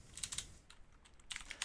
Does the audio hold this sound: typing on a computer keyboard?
yes